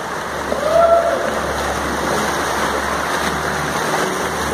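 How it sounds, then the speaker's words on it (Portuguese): River water rushes steadily and loudly beneath a bridge on the Rio Dourados while the river is running high, a continuous broadband roar heard close up from a boat. "Será que tem água no rio?"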